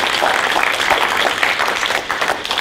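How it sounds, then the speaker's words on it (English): A round of applause from an audience after an academic presentation on publishing, a continuous wash of many hands clapping at moderate loudness throughout. "I think a round of applause first"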